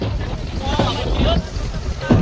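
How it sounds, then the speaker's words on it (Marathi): Strong wind at sea buffets the microphone in a loud steady roar, with voices faintly audible beneath it. "वारा बघा किती आहे, खूप वारा आहे"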